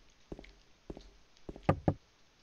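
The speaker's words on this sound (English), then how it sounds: "I knock on the door, but there's no answer." Knocking on a door in the video game Silent Hill 2: two quick raps, a pause, another pair, then two louder knocks, dry and close with no talking.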